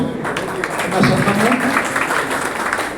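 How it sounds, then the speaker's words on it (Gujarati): Audience applause greets an elderly pensioner being honoured with a bouquet at a pensioners' convention, sustained dense clapping that blends with a speaker's voice over the hall's sound system. "આપણે તાળીઓથી અભિવાદન કરીશું"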